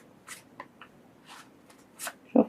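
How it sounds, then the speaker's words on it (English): Tarot cards riffle and flick in a few quick bursts, close by and fairly quiet, ending with a louder clatter. "Oh, we get a shuffle."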